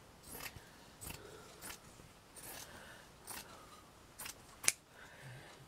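Scissors cut through lined fabric in about seven quiet, evenly spaced snips, close to the microphone, with no talking.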